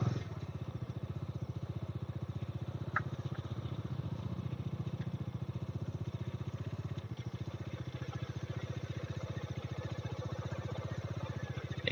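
A motorcycle idles on a monsoon ride to the Nallamudi viewpoint in Valparai, its engine putting along in a steady, even rhythm close by, with no talking.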